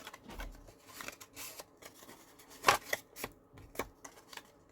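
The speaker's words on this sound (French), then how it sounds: "Je vais venir bien marquer les plis quand même." Paper or card for a small craft box is pressed and creased into folds by hand, giving brief scattered rubs and crisp snaps, close and fairly quiet, with one sharper crackle midway.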